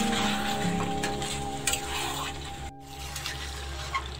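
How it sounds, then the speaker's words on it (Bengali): Mutton pieces sizzle and fry on high flame in a pot, with steady loud crackling and occasional stirring scrapes continuing throughout. "এবার হাই ফ্লেমে মটনের পিসগুলোকে 15 মিনিট সময় ধরে ভালো করে কষিয়ে"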